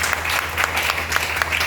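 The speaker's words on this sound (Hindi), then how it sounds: "मैं आज सरगम यासीन मैम के लिए और आरिफा मैम के लिए जोरदार तालियां आप लोगों से चाहता हूँ" An audience gives loud, dense clapping over a low steady hum, a short burst of applause filling the room.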